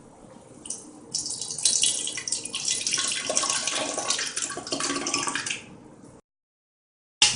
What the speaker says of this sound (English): So now we pour in the water, step one.